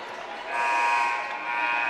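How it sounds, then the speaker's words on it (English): A basketball arena buzzer sounds inadvertently during a college men's game, a loud, steady electronic blare lasting over a second amid crowd noise. "Never mind, it's an inadvertent buzzer."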